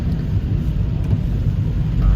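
Heavy rain falling as a steady, dense broadband wash with a low rumble underneath, continuous and fairly loud throughout with no talk.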